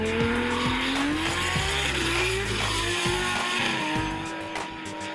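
A Nissan S15 drift car on Evergreen Tyres screams through a competition run at Manfeild Circuit, its engine revving up and down in sharp bursts against loud, sustained tyre squeal, close and alone.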